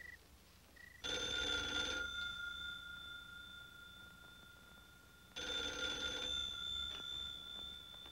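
An old telephone bell rings in two bursts about four seconds apart, loud and close, with a quiet room in between.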